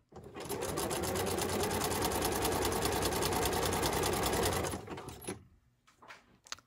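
A sewing machine stitches a dress lining in one fast, steady run of needle strokes that lasts about four and a half seconds, then stops, leaving a few quiet handling sounds.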